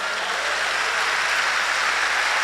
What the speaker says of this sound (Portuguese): Pode dar um aplauso para Jesus, pode dar.